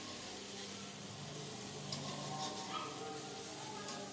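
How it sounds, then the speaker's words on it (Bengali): Fish frying in a pan on the stove gives off a continuous soft sizzle and hiss, close and even, with a slight crackle rising midway and no speech over it. "মাছের ভাজাটা দেখুন কত সুন্দর মতো হয়ে গেল।"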